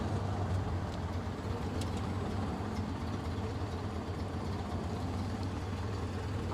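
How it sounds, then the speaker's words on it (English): A 1920s Ford Model A engine runs at a steady low rumble while shifting down into first gear, a constant dense mechanical drone heard from inside the car without talk. "Now I'm going to just try and come down into first gear for this."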